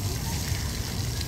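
A park water sprinkler sprays in a continuous hiss and splatter, steady and fairly close throughout.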